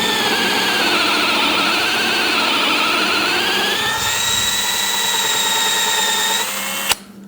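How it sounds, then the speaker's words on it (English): Power drill boring a countersunk hole into wood with a plug cutter bit, a loud continuous whine that shifts pitch as the bit bites deeper, then cuts off abruptly. "if we drill our hole and countersink and keep going over the shoulder of this bit, it's going to drill a fairly deep hole."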